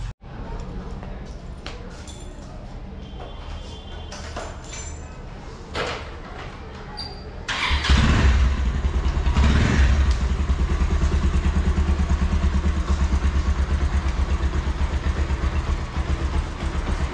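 A motorcycle engine catches and settles into a steady, loud idle close by, after a stretch of quieter handling noises and clatter.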